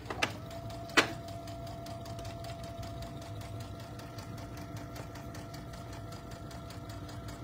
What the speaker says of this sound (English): I usually sew like a speed demon, but I thought I'd slow it down a little bit so you have to see what I was doing